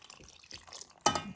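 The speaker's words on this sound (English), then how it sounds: "you need to pour in the water." Water poured into a pot of sarma, Bosnian stuffed cabbage rolls, ending in a sudden close splash and gush of liquid after a stretch of quieter dripping and rustling.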